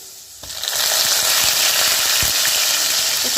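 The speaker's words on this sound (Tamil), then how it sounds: "கருவேப்பிலை நல்லா பொரிஞ்சிச்சு." Curry leaves dropped into hot oil with chana dal for puri masala, setting off a sudden loud sizzle that holds as a steady bright crackle, with a few stirring knocks.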